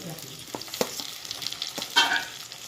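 Chopped onion, green chilli and tomato sizzle in a hot pan as a spatula stirs them, with a few sharp scrapes and a brighter hiss near the end, close and moderately loud, no talking.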